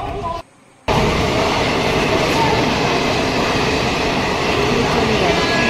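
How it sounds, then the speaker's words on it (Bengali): Loud, steady rumble of a train rolling into platform 6 at Howrah station, broad and continuous after a brief dip near the start, with faint voices mixed into the noise. "6 নম্বর প্ল্যাটফর্মে গাড়ি এসছে, ঢুকছে।"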